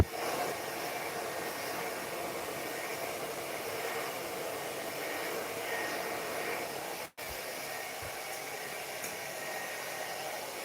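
A hair dryer fitted with a nozzle blows steadily and fairly close during a men's textured haircut, a continuous airy whoosh broken by one brief cutoff near the end before it resumes.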